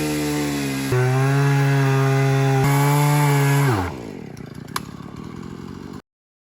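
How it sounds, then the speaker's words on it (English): A chainsaw cuts through a fallen tree on a closed off-road forest track in Alpine Ash country, with a loud steady whine that drops in pitch under load before winding down and cutting off. "and Ben has a chainsaw"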